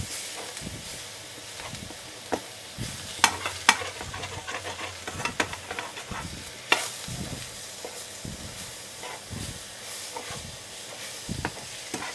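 A trusty spoon stirs potatoes frying in a little oil in a well-seasoned pan, a steady soft sizzle with intermittent scraping and clinking taps, close and quiet, no talking.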